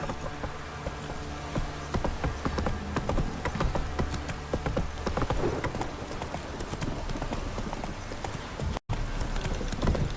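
A horse gallops in The Witcher 3, with rapid, continuous hoofbeats drumming over a dense wash of game sound for about ten seconds, broken once by a split-second dropout near the end.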